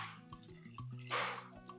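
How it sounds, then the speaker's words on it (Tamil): Leftover water is poured into a ragi kali mixture in a home kitchen, giving soft drips and splashes with a brief louder gush of pouring midway, quiet and close, with no talk. "வேஸ்ட் பண்ண வேண்டாம் இந்த தண்ணியை ஊற்றிடலாம்"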